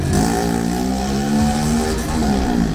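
A tuned Honda Biz 110i motorcycle with lightweight aluminium parts revs steadily close by, its engine note rising and holding loud throughout with no talk.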